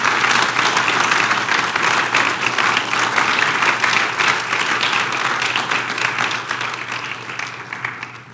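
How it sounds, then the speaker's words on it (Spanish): A church congregation applauds, a dense wash of many hands clapping that holds steady and then slowly thins and fades toward the end. "Le doy un aplauso al Señor por eso"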